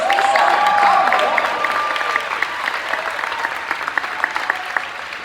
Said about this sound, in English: Just do one more applause for the wins.